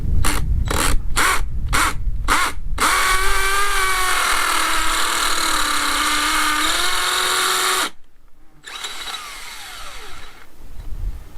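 Power drill with an 11 mm masonry bit boring into masonry on a farm; a few short pulses, then a steady loud whining drill note that shifts pitch before cutting off, with a quieter tail.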